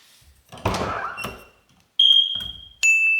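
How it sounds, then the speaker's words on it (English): An Audi R8 car door opens and closes with short, high-pitched squeaks, two sustained creaks near the end following a couple of dull thuds. "Squeaky door on the R8."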